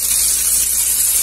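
Carrots, green beans, chayote and parsley stalks fry in a pan for rice with mortadella, giving a loud, steady sizzling hiss that fills the moment with no talking.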